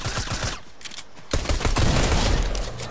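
Gunfire in the Fortnite video game, loud rapid bursts of shots at the start, a brief lull, then a dense sustained volley of close fire.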